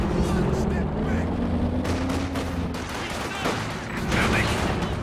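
Gunfire in a sniper video game, sharp reports and booming shots over a dense battle backdrop while a commentator talks rapidly over it.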